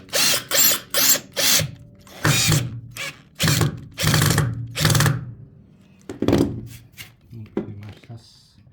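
A power drill drives screws through a caravan sub floor into the metal chassis of a 1989 Viscount caravan, in a series of short close whirring bursts with gaps between, and someone talking at times.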